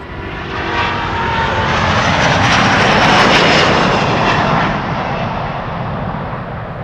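A nearly new Delta Airlines Airbus A330neo, flight 243 to Boston, Massachusetts, passes at Amsterdam Schiphol with a loud, sustained engine roar that crests around the middle and stays heavy to the end.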